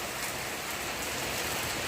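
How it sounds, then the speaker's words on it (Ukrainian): Steady, fine, long-lasting rain falls over a rural homestead with a vegetable garden, a dense even hiss of drops filling the whole stretch with no voices. "Такий пішов дощ, рясненький гарненький, дощі довгенький"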